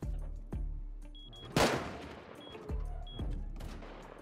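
Scattered gunshots in the survival game Rust, a few sharp reports with one louder, closer crack in the middle, spaced irregularly over quieter ambient noise, no talking.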